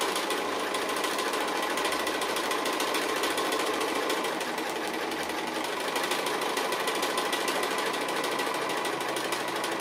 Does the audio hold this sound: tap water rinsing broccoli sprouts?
no